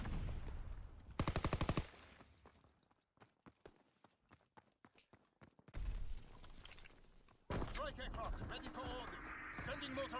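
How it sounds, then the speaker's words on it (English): Incoming enemy mortar fire in a first-person shooter, rendered as a busy stretch of loud bursts and rapid rattling gunfire with sharp clustered impacts, quieter gaps between volleys, and a voice briefly audible amid the combat. "Enemy mortar fire incoming."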